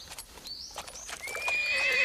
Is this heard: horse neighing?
yes